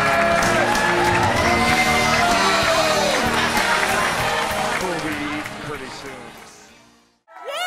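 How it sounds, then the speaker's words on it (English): A wedding crowd at a family home in Easton, Maryland, breaks into loud applause and excited cheering, with shouting voices layered over the clapping. The noise holds steady, then fades out near the end. "applause"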